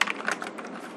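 Quick, close keystrokes on a computer keyboard while JavaScript code is typed, an uneven patter of soft clicks over a brief second.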